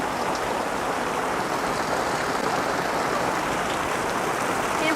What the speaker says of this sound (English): Distracted by all this rain.